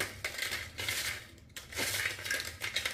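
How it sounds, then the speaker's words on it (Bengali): Crispy fried pea pod peels crunched close up, a run of brittle, crackly crunches in two bursts with a brief pause between, no talking. "ভাজার পরে যে কতটা মচমচে হয়েছে সেটাও আপনাদেরকে শুনিয়ে দিচ্ছি।"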